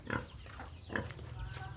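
Pig grunting in a pigsty, a few low, rough grunts in short bursts close by, with faint background noise and no clear speech.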